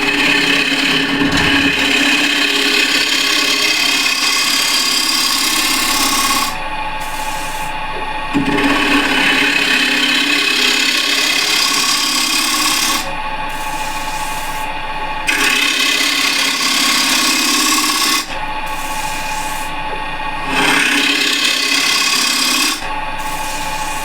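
A refiner scraper shapes the bottom of a wooden piece spinning on a lathe at a little over 1000 RPM, a loud continuous rasping scrape broken by several brief pauses as the tool lifts.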